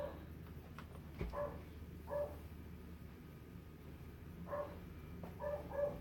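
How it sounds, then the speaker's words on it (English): A dog barks outside, far off and faint. About five short barks come at irregular intervals over a low, steady background. "don't know why the dog is barking so much"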